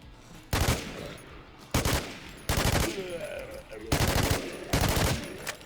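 An M134 minigun fires in the video game Infestation in several loud, sustained bursts of rapid fire with short pauses between them.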